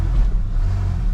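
An old truck bought at a garage sale runs with a low, rough engine rumble that rises slightly as it revs, close and steady with no speech.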